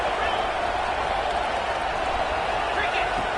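Steady, dense roar of a large stadium crowd at a Mississippi State Bulldogs college football game as the team faces 1st and goal, a continuous loud wash of cheering with no distinct breaks.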